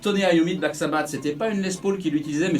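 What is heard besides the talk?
No everyday noises stand out.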